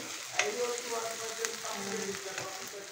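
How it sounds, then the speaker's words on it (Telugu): Onions fry in a pan with a soft, steady sizzle close by, broken by light scraping taps of a stirring spoon. "ఉల్లిపాయలు బాగా వేగాయి, ఇంకా వేసుకుందాం."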